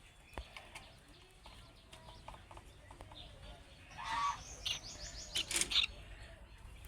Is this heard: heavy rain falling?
no